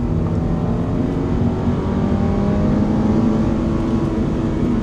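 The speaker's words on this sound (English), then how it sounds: "This car sounds like my fucking vacuum cleaner." Toyota GR86 sports car engine, a constant, loud droning hum with a flat, vacuum-like tone. It stays steady at close range throughout, with no voices.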